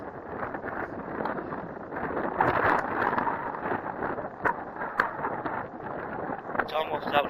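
Gusty wind on a windy day at an RC flying field in Deblois buffets the microphone, a continuous rough rumble that rises and falls in strength throughout.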